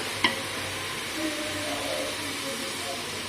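Gravy with ground mint and coriander leaves being sautéed for mint mutton biryani, a steady close sizzle and hiss with one sharp utensil tap at the start.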